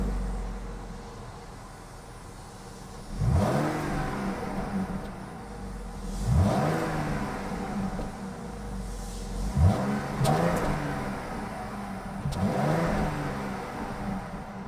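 A 3.6 liter Pentastar V6 engine in a 2022 Jeep Grand Cherokee idles nearby and is revved in four separate bursts, each rising and falling back to a low, steady idle.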